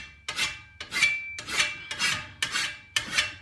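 A hand file is pushed across the edge of a Husqvarna 525RX brushcutter grass blade in six evenly spaced metallic rasping strokes, each one loud and close with a short gap between them.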